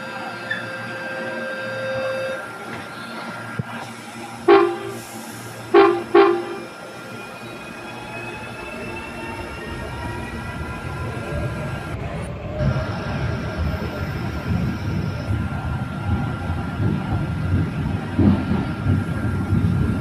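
A Recife metro train in the Hmmsim train simulator game, its motor whining and rising as it pulls away after a few chimes, with a steady rolling rumble building underneath.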